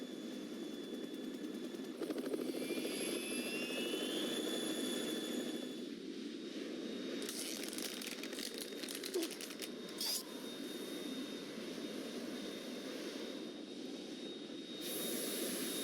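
Harrier jet engine in the video game Metal Gear Solid 2, a steady airy roar with whining tones that hums continuously at moderate level, with some brief rattling bursts midway and no talking.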